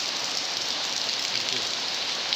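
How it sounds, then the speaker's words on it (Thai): Heavy rain pouring down at a crocodile farm in Samut Prakan, a dense, steady hiss of falling water that goes on without a break. "วันนี้พามาชมสถานการณ์ฝนตกวันนี้ครับ"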